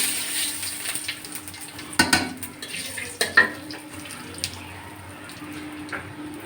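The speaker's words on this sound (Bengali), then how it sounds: "পেঁয়াজ ভেজা তেলের ভিতর আমি একটু জিরে দিয়ে দিচ্ছি সাদা জিরে আর দুটো তেজপাতা" White cumin seeds and two bay leaves sizzle in onion-fried oil for a rohu fish do-pyaza, a steady close hiss with a few sharp utensil clinks and taps near the middle, no voices.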